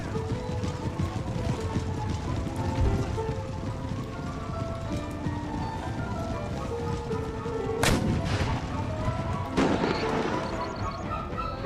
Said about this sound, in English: That artillery seems to have gotten their attention.